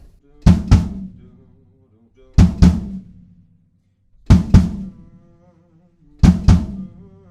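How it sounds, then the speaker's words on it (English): Deep floor tom and kick drum hits land together in pairs, two quick eighth-note thuds repeating four times at an even pace with silence between, loud and close. "We've got floor tom and probably kick drum at the same time, just playing 2/8 notes each bar."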